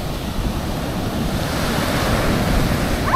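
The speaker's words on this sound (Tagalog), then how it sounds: "Ni alon, papunta na sa paa mo." Ocean waves wash onto a white-sand beach as a steady, loud broadband rush with wind buffeting the microphone, building slightly toward the end.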